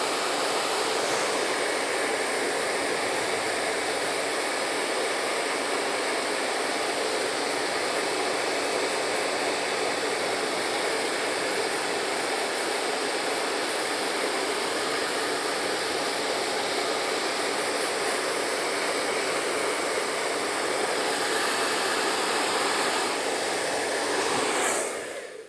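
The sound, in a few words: electric foil shaver running during haircut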